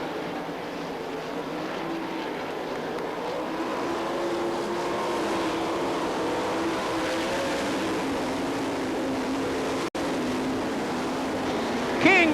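360 sprint cars racing at the Knoxville Nationals, a steady distant drone of engines circling the track that holds at an even level for the whole stretch, with no nearby talk.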